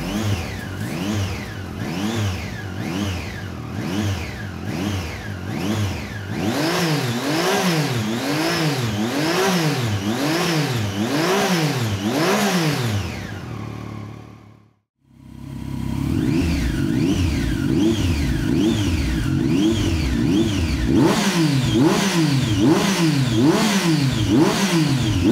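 A Triumph Street Triple motorcycle fitted with an Aero exhaust revs repeatedly, the engine note climbing and falling in rhythmic blips, then cutting briefly to near silence before resuming with loud, close, sharp rev cycles.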